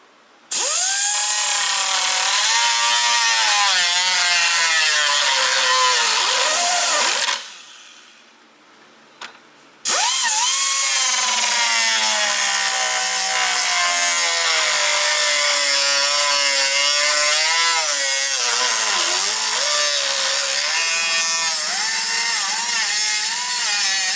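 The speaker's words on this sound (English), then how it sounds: "we cut off a piece of little scrap, just a thin gauge sheet steel" A saw cuts steadily through a piece of thin gauge scrap sheet steel, a loud harsh rasping that runs for several seconds, stops briefly, then resumes in a long continuous stroke.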